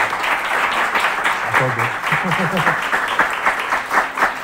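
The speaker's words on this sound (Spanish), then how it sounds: "Un aplauso a..." An audience applauds in a loud, continuous wave of clapping, while someone speaks briefly over the start of it.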